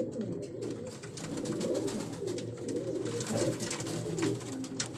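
Pigeons belonging to a Karachi pigeon keeper coo continuously in a low, overlapping chorus, close by and fairly loud, with no voices.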